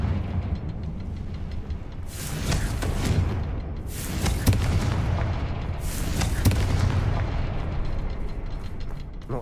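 Confringo blasting spells in Hogwarts Legacy, three loud explosive bursts about two seconds apart, each with a rumbling tail, over a steady low roar with no talk.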